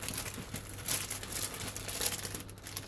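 Plastic bag crinkling while unboxing a WORX WX170.1 MaxLithium 20V cordless drill driver, soft irregular rustles and crackles with a few brighter crinkle bursts, close and fairly quiet.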